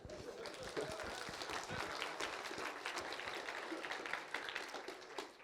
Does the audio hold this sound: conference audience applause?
yes